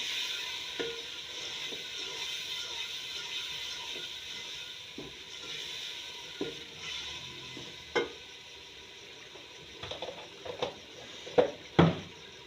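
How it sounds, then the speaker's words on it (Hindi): Spices with turmeric, salt and other masala frying in a pan for aloo matar, a faint sizzle under sharp stirring clatters that grow louder and more frequent toward the end. "हल्दी 1 चम्मच, फिर उसे अच्छे तरीके से भून लेना।"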